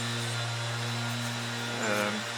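Mulcher blade held against a grinder, a steady whirring drone with a sustained hum, a brief rise in grinding noise near the end, no voices.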